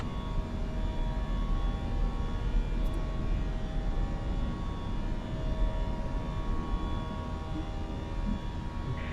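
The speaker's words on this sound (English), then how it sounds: "Go around flaps. Check. Positive climb. Gear up." Steady jet engine roar from a British Airways Airbus A319 in a flight simulator, climbing out during a go-around; a constant, loud broadband drone with no talk over it.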